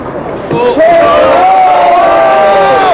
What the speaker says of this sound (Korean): 지금 다시 한번 큰 박수 부탁드리겠습니다